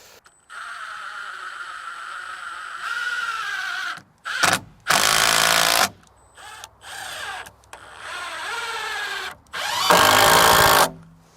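A power drill drives screws into the wooden wall framing of a small DIY cabin, in several loud bursts of whining motor with ramping pitch, separated by brief pauses and clicks.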